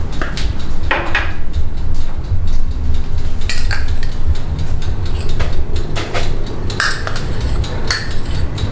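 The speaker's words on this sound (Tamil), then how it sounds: "இந்த butter, brown sugar and white sugar, இது 3ஐயும் நம்ம மிக்ஸ் பண்ண போகிறோம்." Butter, brown sugar and white sugar being mixed in a bowl for blueberry muffins, a rhythmic scraping and clinking of a utensil against the bowl repeating over a steady low background rumble.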